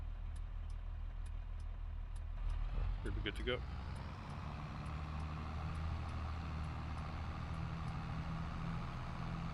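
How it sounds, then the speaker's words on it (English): A JCB vehicle in a farming video game runs with a steady low engine rumble throughout, and someone talks briefly over the continuous drone. "I really like this JCB."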